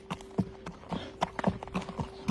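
A horse's hooves clip-clop in an irregular, fairly close rhythm of sharp knocks, with faint background noise and no clear talk.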